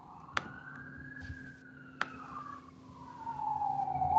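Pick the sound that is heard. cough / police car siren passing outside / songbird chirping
police car siren passing outside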